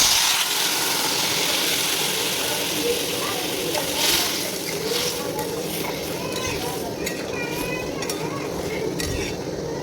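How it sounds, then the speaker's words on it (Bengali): Water poured into a pan of sautéed potatoes for boiling, a sizzling hiss with stirring and light clatter of utensil against the pan, close and continuous, with a voice talking over it. "এবার এর মধ্যে আমি জল দিয়ে দেবো সিদ্ধ করার জন্য"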